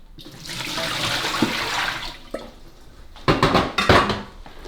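Old water sloshes and pours out of a DeLonghi Magnifica S coffee machine's container with a rushing splash during descaling, followed by a few clinks and louder bursts of splashing near the end.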